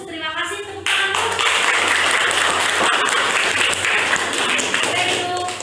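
A classroom of students claps together on the teacher's prompt, a brisk burst of many hands starting abruptly after a short pause and holding steady, close and fairly loud, with faint voices underneath.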